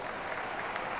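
Crowd applause in the TopSpin 2K25 tennis game, a short steady burst of clapping from the stands, fairly loud and even with no talk over it.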